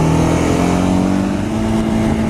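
A 2015 Honda CBR 300R ABS motorcycle engine hums at a steady, loud pitch while riding at speed in third gear, close and continuous without talk.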